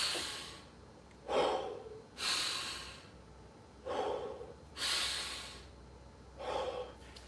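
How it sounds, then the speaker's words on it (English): Rhythmic mechanical breathing exercise from a beginner martial arts class at home, five forceful breaths through the nose and mouth, each a loud rushing in or out with a breathy snort, evenly spaced with quiet gaps between. "This is called mechanical breathing."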